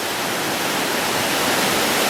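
Fast-flowing water rushes past a fish ladder on a river, a dense, steady, loud roar of torrent with no voices.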